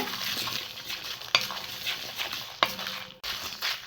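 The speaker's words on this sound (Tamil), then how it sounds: "இப்போ இது எல்லாத்தையும் நல்லா ட்ரை ரோஸ்ட் பண்ணி எடுத்துக்கலாம்" Red chillies and curry leaves dry roasting in a pan without oil give a steady rustling scrape of stirring, broken by a couple of sharp metallic clinks against the pan.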